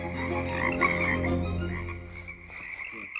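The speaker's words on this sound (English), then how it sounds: "Is that a frog right there?" A bullfrog in a rainforest pond croaks in deep, buzzing, continuous calls, loud and close, with no talking over it.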